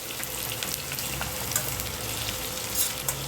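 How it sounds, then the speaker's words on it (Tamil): Long-sliced onion fries with spices in a kadai, a dense, constant sizzle close up with occasional light stirring ticks and no voices. "வெங்காயம் நல்லா கோல்டன் ப்ரௌன் வர வரைக்கும் வதக்கி வச்சுருங்க"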